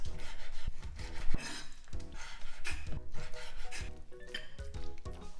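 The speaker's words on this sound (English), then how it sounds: "So I'm just gonna cut it in half, and each into bite-sized pieces" A kitchen knife slices chicken into bite-sized pieces on a wooden cutting board, a steady series of soft rasping cuts and dull knocks of the blade against the board, near and fairly quiet.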